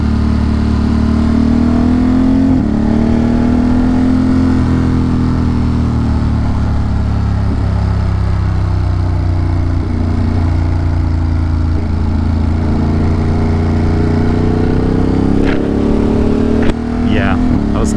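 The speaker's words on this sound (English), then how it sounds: "The bike is loud." Loud motorcycle riding fast along a forest route upstate, its engine droning steadily and close with rising and falling pitch as it accelerates and shifts.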